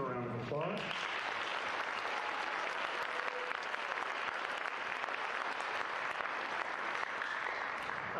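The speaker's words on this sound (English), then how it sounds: "Let's give them a round of applause." A concert audience gives sustained applause for the Waterloo High School Concert Band, a dense, even clapping that fills the room after a brief spoken introduction.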